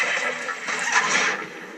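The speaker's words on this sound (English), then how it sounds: "Oh, they shot my horse" A horse in the Red Dead Redemption video game whinnies after being shot, a loud, harsh, noisy cry lasting under two seconds over a busy game soundscape.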